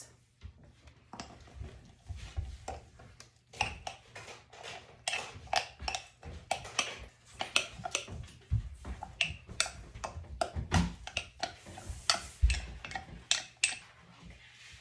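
Sourdough starter being stirred briskly in a container, a long run of quick irregular clicks and scrapes from the utensil against the sides, loud and close, with no talking.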